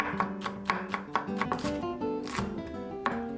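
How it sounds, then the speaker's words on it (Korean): A knife mincing green onion on a cutting board in a home kitchen, producing a quick irregular series of close, crisp taps with no talking. "대파 반 뿌리는 다져주세요."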